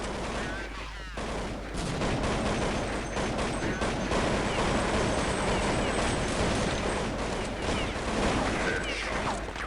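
Gunfire in the video game Counter-Strike 1.6, dense rapid bursts of shots crackling almost continuously, loud and close, with a voice talking faintly underneath.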